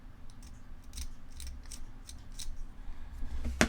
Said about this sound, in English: See if I can cut a line into it